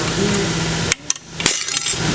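Snap ring pliers release a metal snap ring from a transmission case during teardown, cutting a steady background hum with a sudden sharp metallic pop and a few quick clinks.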